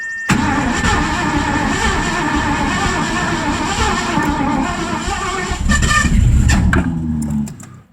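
A carbureted Ford 302 V8 swapped into a Mazda RX-7 cranks and fires, then runs with a loud, rough, uneven roar and flames out of the carburetor, a brief surge near the end before it cuts off.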